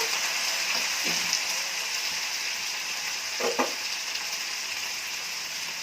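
Potato pieces fry in a pan for an eggplant-tomato-potato curry, giving a steady close sizzle throughout with a couple of brief scraping stirs partway through.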